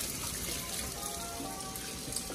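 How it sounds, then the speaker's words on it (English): Tap water runs steadily into a kitchen sink during handwashing, a continuous close hiss and splash at even loudness with no pauses or talk. "always wash your hands"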